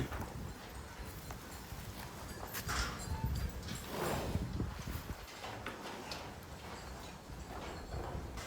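A milk handcart rolls through a cow shelter with a steady clattering rumble and clip-clop-like knocks, continuous and fairly close against a noisy outdoor background.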